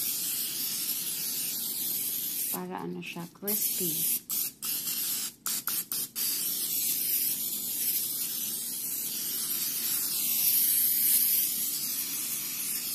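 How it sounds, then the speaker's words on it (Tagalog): Cooking spray hisses onto raw chicken before it goes into an air fryer, a steady close spray running through most of the stretch, with a brief stretch of talking partway through. "Tapos, and then, cooking spray."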